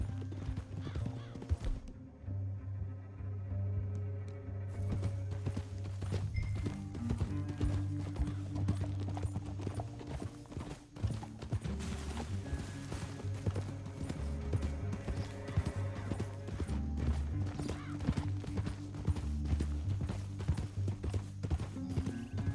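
Horses galloping in the video game Red Dead Redemption, a continuous rapid clip-clop of hooves with occasional neighs, under a steady low musical drone and game ambience.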